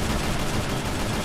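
Dense, continuous rapid gunfire in the video game Mimoň EXE, loud and sustained with overlapping bursts and no pauses.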